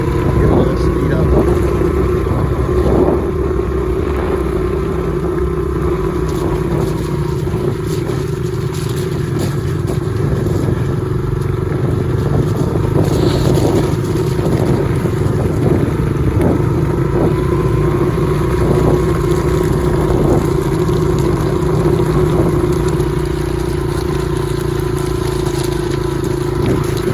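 A Honda CRF70 dirt bike engine drones loudly and steadily while riding a trail, with small throttle changes as it pulls along in second gear; a rider speaks over the engine noise.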